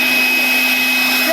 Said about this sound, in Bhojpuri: ये पंखा चालू होता है